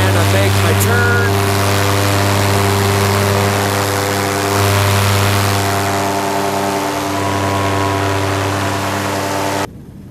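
A paramotor engine idles steadily during powered paragliding flight over mountains, with a loud, droning hum and a buzzing propeller that holds nearly ten seconds before cutting off abruptly.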